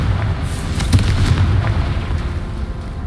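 A Confringo fire spell bursts in the Hogwarts Legacy video game, a dense low booming blast with rumbling explosive energy sustained for about three seconds, loud and close with no talk.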